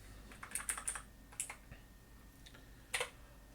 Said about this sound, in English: My fingers are too fat for this keyboard.